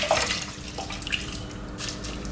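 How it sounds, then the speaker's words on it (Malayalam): Water poured into a pot over chopped vegetables for a mixed vegetable soup, a soft, close splashing trickle running steadily for a couple of seconds with no voices. "ഈ വെജിറ്റബിൾസ് എല്ലാം ഒന്ന് മുങ്ങിക്കിടക്കാനുള്ള വെള്ളം അപ്പം ഇതിനകത്ത് ഒഴിക്കുന്നത്"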